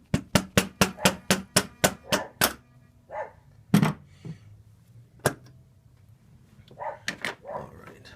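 Mallet blows on a part being seated during a thermostat replacement on a 2002 Mazda Millenia: a quick run of about ten sharp, evenly spaced knocks, then a few scattered heavier taps and a brief flurry near the end, close and loud.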